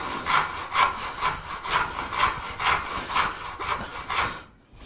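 A hand saw rasps through wood, cutting out the waste of a dovetail joint in rapid, steady back-and-forth strokes, each stroke loud and close. It stops abruptly near the end with no talk.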